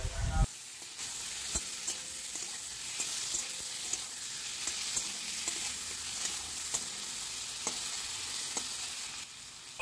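Ginger-chili paste and salt sizzle steadily in a hot pan while being stirred, a continuous close frying hiss broken by occasional soft scrapes and taps of the spoon, with no voices.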